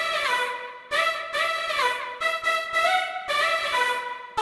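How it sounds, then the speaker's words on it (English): Omnisphere synth vocal patch built from built-in sound sources for the song Real Love: bright, harmonically rich sustained tones in chopped, rhythmic phrases separated by brief gaps, heard alone and clean. "I created this sound using only the built-in Omnisphere sound sources"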